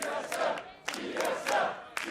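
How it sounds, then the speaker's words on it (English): Fans at a 2016 North American League of Legends esports match between TSM and Phoenix1 cheer and shout together, a steady roar of crowd noise with sharp surges of yelling bursting out over it. "Fans getting pretty vocal out here in the crowd."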